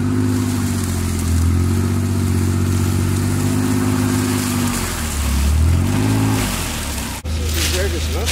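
A 2020 Kawasaki Mule Pro FXT Ranch Edition engine drones loudly under heavy pulling, holding a steady strained revving tone that dips and surges around the middle before a brief cut near the end.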